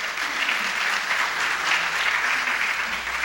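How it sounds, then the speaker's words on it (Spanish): An audience at a lecture on bioinformatics and genomics applauds, dense steady clapping from many hands that holds evenly throughout, with no speech over it. "Un aplauso para Mario."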